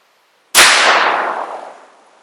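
A single loud .22LR gunshot from the rifle barrel of a Savage Model 24 .410/.22LR combination gun fired at apples outdoors, a sharp crack that rings out and decays over about a second and a half, with no talking.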